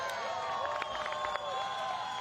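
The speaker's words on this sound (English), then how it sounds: "Listen to that crowd." Spectators cheer and clap at a beach volleyball quarter-final in Itapema, a lively crowd roar heard at moderate distance beneath overlapping voices and a few sharp claps.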